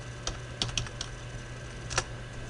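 Several soft, sparse keystrokes on a computer keyboard, entering a short software command, scattered clicks over a low steady hum in a quiet room.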